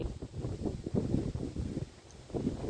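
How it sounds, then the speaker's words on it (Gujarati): Steady gusty wind over farm fields after rain buffets the microphone, a low rumbling roar that swells and eases throughout with no clear voices. "એટલો પવન છે"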